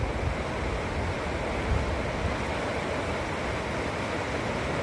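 Steady roar of river water rushing over a submerged bridge, a continuous broadband wash with no breaks, loud and close throughout.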